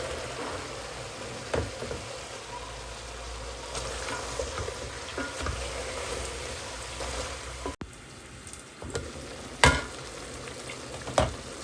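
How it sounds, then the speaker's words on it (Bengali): Prawns and bottle gourd sautéing with spices in a pan, a steady close sizzle and frying hiss with occasional scrapes and clinks of stirring, no voices. "চিংড়ি মাছ আর লাউ ভালো করে কষিয়ে নিচ্ছি"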